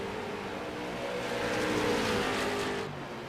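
Street stock race cars in iRacing at Lakeland, a steady loud engine drone as cars run close together on the oval, swelling slightly mid-clip before easing off.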